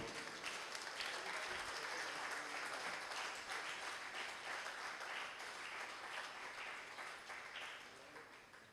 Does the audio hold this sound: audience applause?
yes